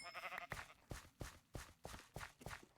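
Sheep in a Minecraft-style survival game give a faint bleat at the start, followed by a steady run of soft, regular thumps, like hits or footsteps, every half second or so.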